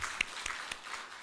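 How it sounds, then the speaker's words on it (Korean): A church congregation at a joint March 1st memorial service in Mokpo claps in praise, faint and distant, with a few louder individual claps standing out over the soft wash. "동의하시면 하나님께 영광의 박수 올리겠습니다"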